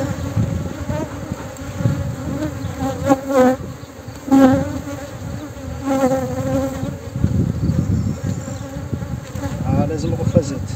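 Agitated, aggressive honeybees swarm around an open hive, their dense buzzing steady and close, with individual bees whining louder as they pass near.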